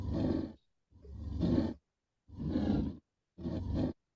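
Tiger roar sound layer built in Krotos Studio software: four long, loud, growling roars, each about half a second to a second, separated by clean silence.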